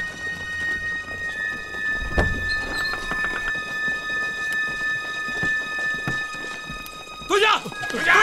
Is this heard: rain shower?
yes